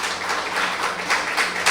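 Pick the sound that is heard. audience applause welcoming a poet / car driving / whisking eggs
audience applause welcoming a poet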